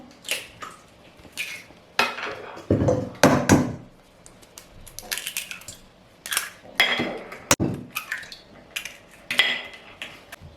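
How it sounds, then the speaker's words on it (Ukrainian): Sharp clicks and taps against a bowl as four eggs are cracked, a few cracks and clinks followed by quick scraping, whisking strokes, close and intermittent with no talking. "Беремо 4 яйця, вбиваємо."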